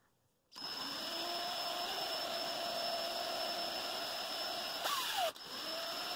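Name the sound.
power drill drilling out rivets on a Hot Wheels car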